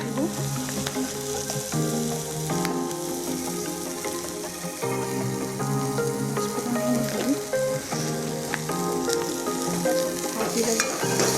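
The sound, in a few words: onion and bay leaf frying in oil, stirred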